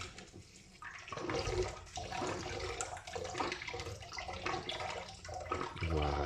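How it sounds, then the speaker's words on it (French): An MSR water filter pump being worked to push leftover water out through its hose, giving a continuous gurgling, splashing rush of water with rhythmic surges, close by. "actionner à nouveau la pompe. Ça va permettre de faire sortir le résidu d'eau par ce tuyau ici"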